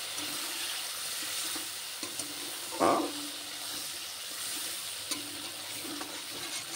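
Chopped onion fries in oil with a pinch of turmeric for a fish-oil chachchari. A low, steady sizzle sounds throughout, with a single brief knock of a utensil midway.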